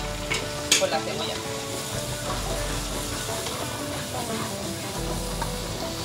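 Onion frying in a sticky casserole pan, stirred and scraped steadily against the bottom under a constant sizzle, close up, with a sharp knock near the start.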